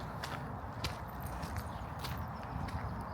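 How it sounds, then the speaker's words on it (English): Horses at an open-air museum village in Sweden, heard as soft, irregular hoof clops and shuffling steps over steady outdoor background noise, moderately close but faint. "And you've got the horses on that side."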